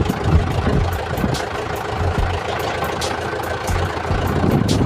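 A farm tractor's engine idles nearby as a steady, loud, low diesel rumble with a regular throb. It runs alone, with no talk over it.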